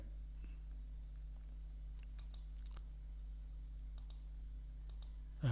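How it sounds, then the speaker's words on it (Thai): Several faint, sharp computer mouse clicks spaced irregularly over a steady low hum, made while formatting a table in Excel; no talking. "คลิกลงไปได้เลยนะครับ"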